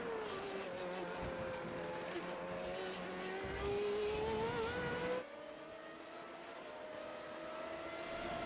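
Formula 3.5 race cars at Monza in iRacing drone past with a steady, loud high-pitched engine whine that shifts in pitch, with a brief louder surge before settling again.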